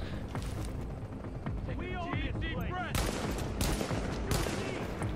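Bursts of gunfire in a video game firefight from The Division, with rapid overlapping shots, booms and explosions. A player voice talks under the din.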